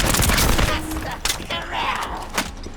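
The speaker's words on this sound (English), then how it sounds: "I cannot get over how good the shooting feels" Rapid automatic gunfire in the shooter video game The First Descendant: a dense burst of loud shots opens the sequence, then scattered single reports and thuds follow, with players talking faintly underneath.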